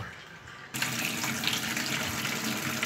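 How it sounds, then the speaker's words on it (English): Tap water runs steadily onto a smoked turkey as it is washed with a sponge in a kitchen sink, a quiet lead-in giving way to a sudden louder, constant splashing stream. "I'm washing my turkey with sponge, but I'm not using soap."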